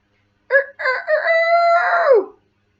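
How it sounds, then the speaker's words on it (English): A rooster gives one full, loud crow lasting about two seconds, close by and alone against silence, opening with a short note and ending in a long, falling call. "He crows all morning"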